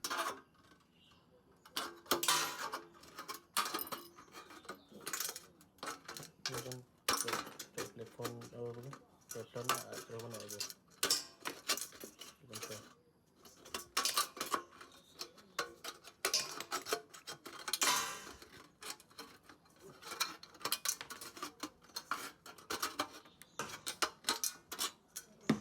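Metal snipping at the inside edge of a tin can lid that already has a hole cut in it, for a homemade camping stove, in repeated short clicks and scrapes heard close up under ongoing talk.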